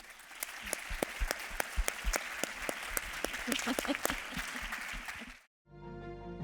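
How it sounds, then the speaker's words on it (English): Loud, sustained clapping from an audience at a University of Memphis town hall fills the room, then cuts off abruptly near the end. "Can we give them a round of applause?"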